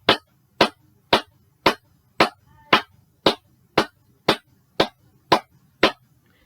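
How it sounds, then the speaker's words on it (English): Hands clap a steady, even pulse, twelve sharp claps at a regular pace, close and loud with silence between them. "If I'm clapping a pulse, it just sounds like this."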